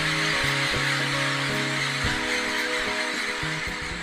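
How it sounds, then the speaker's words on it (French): Boat engines on the Amazon estuary in Brazil drone steadily and close, with shifting tonal hums layered over a constant broadband wash, no voices. "le bruit des moteurs de bateaux est omniprésent"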